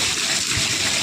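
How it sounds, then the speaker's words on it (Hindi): Rainwater gushes in at a house doorway during heavy rain, a loud, steady, close rushing wash of water with no break and no talk. "अभी कितनी देर पड़ता कि देखो ये बारिश"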